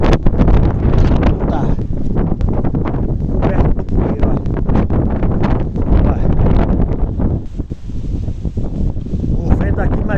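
Strong wind of about 35 km/h buffets the microphone in continuous loud rumbling gusts, with a person talking through it.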